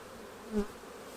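A low, steady hum of many honeybees buzzing around hive frames while mating nucs are set up, with one bee droning briefly closer and louder.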